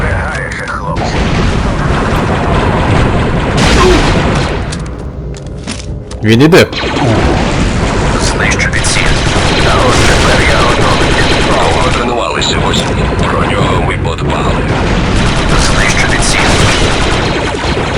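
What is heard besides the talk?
gunfire in video game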